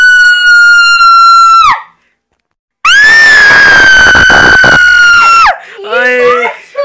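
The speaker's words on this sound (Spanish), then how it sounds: "¡Se escuchan unos gritos!" Two long, loud, high-pitched screams separated by a short silence, followed by a shorter wavering shriek, in a haunted house.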